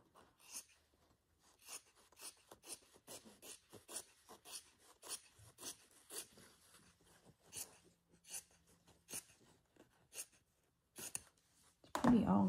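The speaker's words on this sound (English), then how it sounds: "trim this excess off." Scissors trimming excess paper off a page in a handmade journal: a run of quick, close snips and rasping cuts in an irregular rhythm, quiet overall, with a louder bump at the very end.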